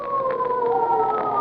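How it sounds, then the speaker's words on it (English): Wailing police sirens sound in a 1947 radio drama, a steady rising-and-falling tone that is loud and sustained, heard alone without talk. "police sirens"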